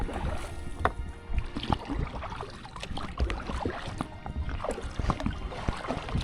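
A solo kayak cuts across open water with a quartering wind, as steady paddle strokes splash and gurgle under constant wind rush and water noise.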